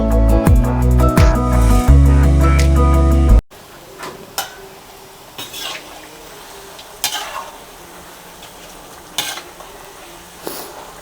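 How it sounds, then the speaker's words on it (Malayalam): Brief music opens, then banana slices frying in oil for Kerala-style ethakka chips take over with a low, steady sizzle and occasional sharp stirring scrapes and clinks against the pan. "കുറച്ച് ഇടയ്ക്കിടയ്ക്ക് ഇളക്കി കൊടുക്കണം"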